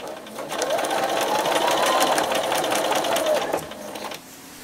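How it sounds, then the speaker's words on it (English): A sewing machine top stitches a fabric border onto a towel, running as a steady, close mechanical whir with rapid needle ticking for several seconds before it stops. "So I will top stitch the same amount from the edge to here."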